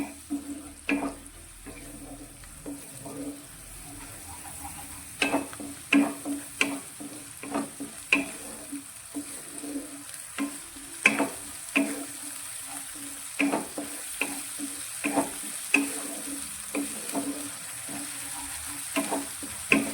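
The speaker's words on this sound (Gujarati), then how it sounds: "આપણે ફક્ત 2 નાની ચમચી જેટલું પાણી એડ કરીશું અને મસાલાને સારી રીતે સાતળીશું" Spices sautéing in oil with a small splash of water for a Gujarati mixed-vegetable and muthiya curry, a steady close sizzle broken by frequent sharp scraping clicks of a spoon stirring against the pan, with no talking.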